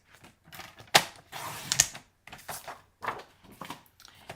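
A Stampin' paper trimmer slicing cardstock to 5.5 inches, close-up clicks and a scraping blade stroke, faint and brief against a quiet room.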